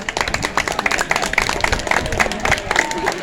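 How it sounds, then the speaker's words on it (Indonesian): A classroom of students clapping together, a dense, fairly close patter of many hands with a faint murmur of voices underneath. "Wong kejutan kok tepuk tangan."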